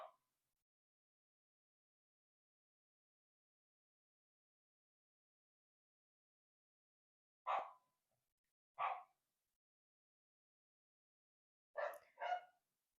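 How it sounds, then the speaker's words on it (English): Dogs bark in a few separate bursts: one short bark, then another about a second later, and a quick double bark near the end, with silence between them. The barks are moderately close and there is no talk. "Pardon my dogs."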